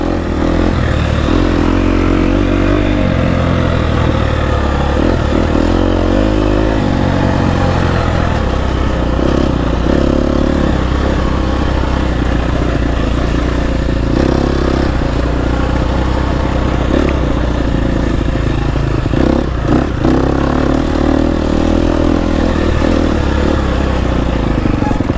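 A GasGas EX250F dirt bike engine runs loud and close for the whole stretch, a steady buzzing drone with repeated rises and falls in pitch as it is revved.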